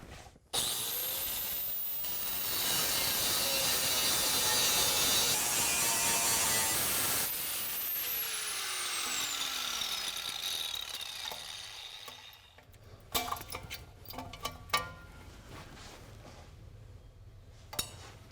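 An angle grinder cuts a steel brake dust shield on a 2017 RAM 2500 during a rear brake install: a loud high-pitched whine that spins down, then a few sharp clanks and clatters as the tool is set aside.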